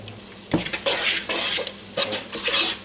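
Greasy bacon sizzles in a pan over medium heat while a utensil scrapes and clatters against the metal in several irregular stirring strokes, close and without talk.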